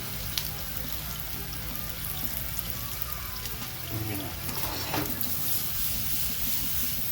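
Onions with pepper and garlic sizzle steadily in a pan, a close continuous crackle with a few liquid drips and stirring noises, no voices.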